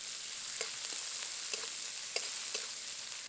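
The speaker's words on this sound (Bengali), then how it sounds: "কাঁকড়া ভাজা তেলের মধ্যেই দিয়ে দেব পেঁয়াজ কুচি।" Chopped onion fries in mustard oil left from frying crabs, a constant close sizzle broken by several short scraping stirs of a spatula in the pan.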